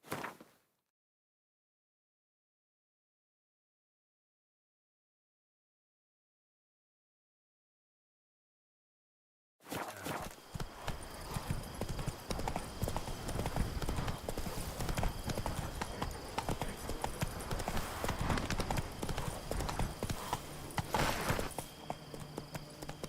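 Horse hooves clip-clop steadily in The Witcher 3: Wild Hunt, a brisk, continuous rhythmic beat that begins abruptly after a long stretch of silence and carries at close, even loudness to the end.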